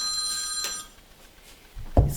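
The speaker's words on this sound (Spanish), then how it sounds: "Uy, creo que es mi teléfono." A mobile phone rings briefly during a lecture, a faint electronic ring that fades before a louder bump near the end.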